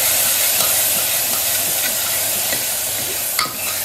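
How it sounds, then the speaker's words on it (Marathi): Moong dal being sautéed in a tempering over a low gas flame, giving a soft, steady frying sizzle with light stirring scrapes throughout, close and continuous with no talking. "आता बारीक गॅसवर चांगली परतून घेतलंय."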